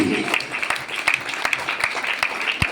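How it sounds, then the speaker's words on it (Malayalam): An audience at a school award ceremony applauds a student prize winner, a dense run of clapping with sharp individual claps standing out nearby, while an announcer's voice carries over it. "നല്ല കൈയടിയോടുകൂടി"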